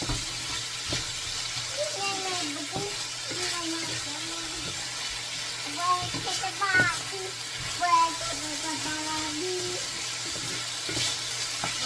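Pumpkin and shrimp fry in hot oil in a pan, giving a steady soft sizzle throughout while a person talks over it.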